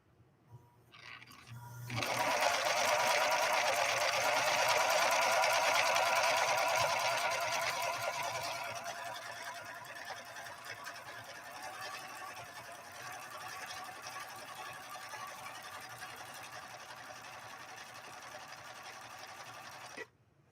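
A Viking Husqvarna 3230 sewing machine stitching 100% cotton with quilt batting, a continuous close mechanical whir that starts suddenly, runs loudest for several seconds, then carries on at a slightly lower, steady level to the end.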